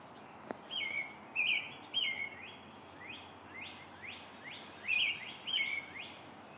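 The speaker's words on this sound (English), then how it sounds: "we've got a robin back here, and sparrows just flew up alongside of it." Several small songbirds, a robin among sparrows, sing outdoors in a backyard, with repeated bright chirps and short rising call phrases spaced every half second to a second over a steady hiss of rain-season ambience.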